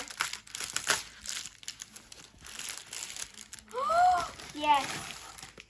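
Paper packaging containing a book is torn open and crumpled in several close, loud bursts of crinkling and tearing, with brief rustles between, and a voice speaks over part of it.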